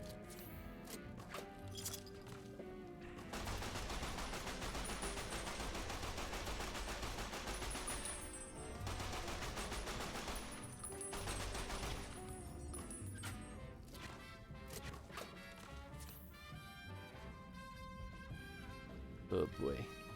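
Sustained bursts of game gunfire in Fallout: New Vegas, dense and loud for long stretches with brief pauses between volleys, with a voice talking faintly at points.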